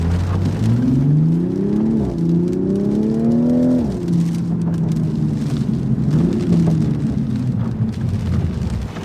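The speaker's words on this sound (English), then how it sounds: "I'm going to show you a little bit of how quickly it accelerates." A 2020 Toyota Supra accelerates hard from a stop, its engine note climbing steeply through the gears with distinct shifts, loud and close with no talking.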